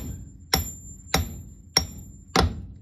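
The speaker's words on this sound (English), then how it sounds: "I was able to pound with this. This is my sledge / splitting wedge." A sledgehammer drives a splitting wedge against a bus rear brake drum in four loud, evenly spaced metallic strikes about half a second apart, each ringing briefly before the next.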